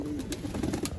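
Pet pigeons cooing in soft, repeated low throaty calls, close and steady through the moment, with no talking.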